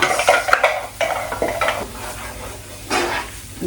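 Aromatics sweated over gentle heat in a pan for black bean sauce: a soft, steady sizzle with repeated scrapes and clinks of a utensil stirring against the metal, close and clear, with no talking.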